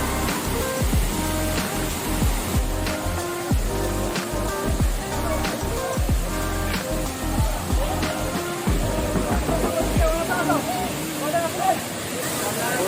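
A perennial river flows at a picnic spot with a steady, broad rushing wash that runs the whole time beneath people talking close by.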